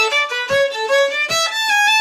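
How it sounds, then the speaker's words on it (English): Fiddle playing a quick bowed phrase of an Acadian fiddle tune using the ghost bow technique, short repeated notes with soft scratchy bow attacks between them, close and clear, no talking. "you're gonna start this tune with the Ghost Bow."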